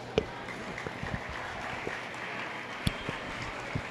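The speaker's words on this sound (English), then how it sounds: "If you would give these exhibitors a nice round of applause." Faint, distant applause from the audience at a beef cattle show, honoring calf exhibitors: a steady, soft patter of many hands with a few sharper claps standing out.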